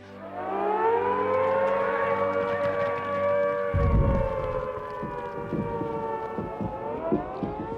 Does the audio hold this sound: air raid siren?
yes